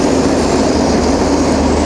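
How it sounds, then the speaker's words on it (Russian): A diesel locomotive rolls past outdoors on a city street, a steady loud rumble of engine and rail noise with a low drone holding throughout, no voices over it. "смотрите, такой тепловоз едет."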